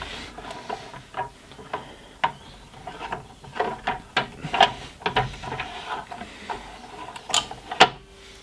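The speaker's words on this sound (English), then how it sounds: "firstly unscrewing this star bit right here" A star-bit screw being backed out of a Dewalt mitre saw, with steady ratcheting ticks and clicks repeating close up at an uneven pace.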